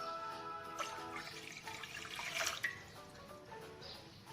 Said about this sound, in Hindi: मैं 2 कप लेमन टी बनाने वाली हूँ तो मैं 2 कप पानी ऐड कर रही हूँ।